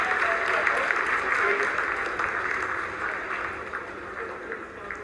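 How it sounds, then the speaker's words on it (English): Sustained applause from a large crowd at the Chandrayaan-3 Vikram lander Moon landing, steady and fairly loud throughout, with a faint voice mixed underneath. "Lot of applause"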